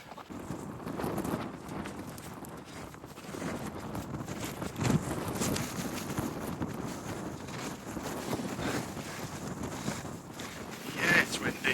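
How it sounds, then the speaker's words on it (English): Strong wind gusts roar across a hilltop during a wild camping hike, buffeting the microphone loudly and continuously with swells of rumble. Faint voices and footsteps mix in. "that wind has certainly picked back up"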